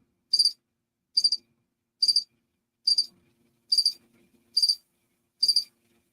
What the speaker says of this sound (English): That's all we need to be hearing is the cricket when it comes to Cowboy talk.